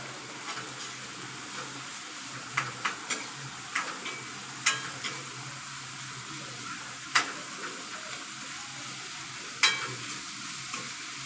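Salted tomato curry with drumsticks being stirred in a pan, a soft continuous sizzle punctuated by spaced spoon taps and scrapes against the pan.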